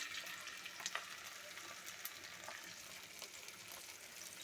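Lightly fried fish pieces go into a pan of frying spices and set off a faint, continuous sizzle with a few soft clinks and stirs. There is no talking.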